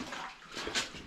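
Water pours steadily inside a flooded mine adit, a broad continuous splashing hiss close by, with no talk.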